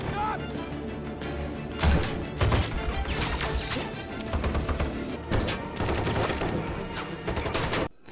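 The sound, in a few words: gunfire in a shootout scene from the film SAS: Red Notice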